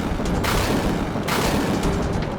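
Gunfire effect from a Hindi courtroom drama's murder scene, a dense booming blast sustained across the clip with heavy low rumble and sharp bursts near the start and middle, loud and close with no talk.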